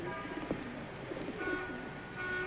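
Pigeons cooing in a 1958 crime drama, a faint, low, throaty cooing over a quiet background hum.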